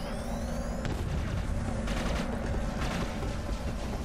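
Grenade blasts and gunfire erupt in the video game Inversion, a dense mix of booms and rapid shots under steady combat noise, fairly loud throughout the short burst.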